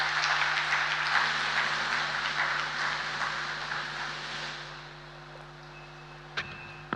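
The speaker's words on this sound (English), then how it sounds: "Another round of applause." Applause from an audience at the official launch ceremony of the Diaspora Bridge, a steady broad wash of clapping that gradually fades, ending with a couple of sharp isolated knocks.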